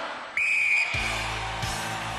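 A referee's whistle gives one sharp, steady blast to start a Gladiators eliminator race, followed by an abrupt thud and the echoing noise of a large indoor arena.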